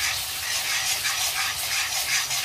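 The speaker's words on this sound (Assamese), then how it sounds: "এতিয়া এইখিনি অলপ গোন্ধ যোৱালৈকে অলপমান ভাজি ল'ব লাগিব" Ground onion spice paste frying in hot oil for a local chicken curry, a continuous dense hiss and sizzle held at an even level throughout, close up and alone.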